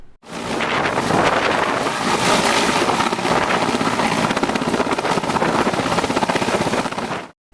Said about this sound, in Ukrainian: Це відео останніх хвилин життя військового транспортного вертольота, на якому Володимир разом із побратимами та